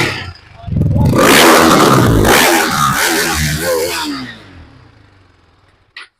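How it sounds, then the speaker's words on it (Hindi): A KTM RC 390 BS6 motorcycle engine revs loudly and roughly, roaring up then settling and fading away, close by with no talking. "जब इसके इंजन की पावर के बारे में बात कर रहे हैं तो आपको इसे रेव करके दिखाते हैं एक बार"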